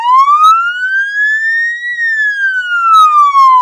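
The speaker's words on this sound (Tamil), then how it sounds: "இந்த சத்தத்துக்கு பேரு வெயில் அப்படின்னு சொல்லுவாங்க." Ambulance siren sounding the slow wail pattern: a loud, clear tone that rises steadily, then falls, then climbs again, with no other sounds.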